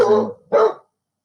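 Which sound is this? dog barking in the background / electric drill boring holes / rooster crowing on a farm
dog barking in the background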